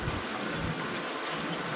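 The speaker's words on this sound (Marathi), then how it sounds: "वरतून पाऊस चालू आहे" Steady rain falls on a dragon fruit orchard with a dense, even hiss, with no voices or other distinct sounds.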